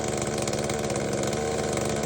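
A small V-MODEST 2511t top-handle chainsaw runs steadily with a low-pitched, sonorous engine note, a close, even buzz with no cutting and no voices.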